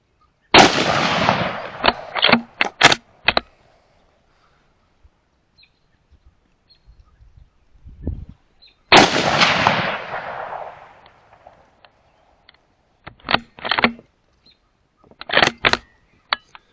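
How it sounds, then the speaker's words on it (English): Rifle gunshots fired through a suppressor come in two bursts of several sharp cracks each. Each burst opens with a louder shot that has a long decaying tail, then quicker follow-up shots with quiet gaps between the groups, outdoors at a range. "But it's nowhere near as quiet as Steve's suppressor or Ryan's suppressor."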